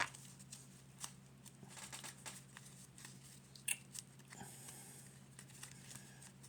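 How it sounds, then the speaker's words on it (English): Playing cards shuffled for a solo tabletop RPG, soft riffling and papery crunches with a few sharper snaps, close and fairly quiet over a steady low hum. "let's go ahead and shuffle."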